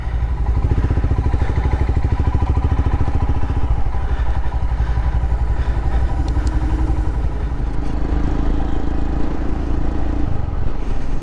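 A Royal Enfield motorcycle rides out on the road, its engine a loud, steady, close thumping drone that lasts throughout, with faint rattles and clatter over it.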